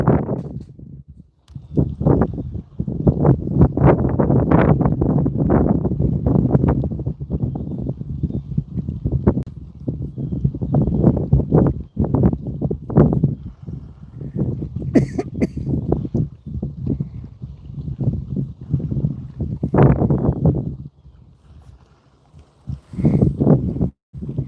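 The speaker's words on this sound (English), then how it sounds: "Yeah, the wind up here is brutal" Strong wind gusts through the opening under a bridge at a fishing spot, buffeting the microphone in loud, uneven bursts that rise and drop throughout, with brief calmer gaps near the start and end.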